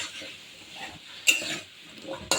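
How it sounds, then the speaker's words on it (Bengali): New potatoes with their skins on frying in a pan give a quiet, steady sizzle, with two sharp utensil clanks against the pan. "আলুগুলো ভাজতে দিয়ে দিলাম।"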